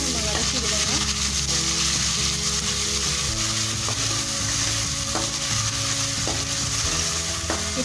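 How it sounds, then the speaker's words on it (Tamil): Ground paste and brinjal sautéing in a pan for brinjal chops give a loud, continuous sizzle, broken by repeated scraping stirs and clinks of the spatula against the pan. "சேர்த்து இதையும் நம்ம வதக்கி விடணும்."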